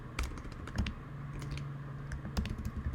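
Steady typing on a computer keyboard, a quick run of light close key clicks with a few louder taps, no voices.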